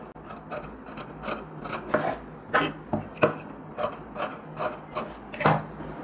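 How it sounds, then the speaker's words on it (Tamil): Scissors snip through blouse fabric in a series of distinct close crunching cuts, roughly one every half second, with quiet pauses between. "எக்ஸாக்டாக வச்சு நம்ம கட் பண்ணிக்கலாம்."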